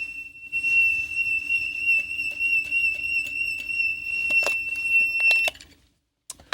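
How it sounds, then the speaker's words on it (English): A small electronic beeper is spun around in a demonstration, sounding a continuous, piercing high tone that stays clearly audible for several seconds and then cuts off abruptly. "As I spin it around, you'll hear the pitch change, high when it's coming towards me and low when it's going away."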